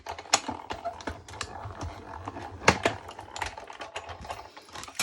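A Stampin' Up cut and emboss machine being cranked to cut a sentiment from paper, giving close, steady ratcheting clicks and mechanical rattles without any speech.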